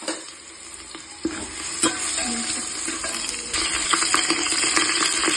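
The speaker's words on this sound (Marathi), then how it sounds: "चांगलं गरम झाल्यानंतर त्यामध्ये काळे मिरे, दालचिनी, तेजपत्ता आणि लसूण टाकून व्यवस्थित घालून घ्यायचं" Black pepper, cinnamon, bay leaf and garlic crackle and sizzle in hot oil, with a spoon scraping and stirring against the pan and a few sharp metallic taps, the frying growing louder midway.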